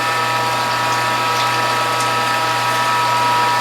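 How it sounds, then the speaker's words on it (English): Bypass valve on a juicer press releasing pressure while pressing carrot, French sorrel, beet, collard, ginger, garlic and turmeric juice, a steady loud mechanical hiss and hum with a constant low tone that holds throughout. "That sound you hear is the bypass valve."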